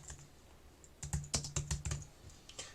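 Quiet typing on a computer keyboard in an indoor room, a short run of about eight crisp keystrokes in an uneven rhythm, close and soft with no talking.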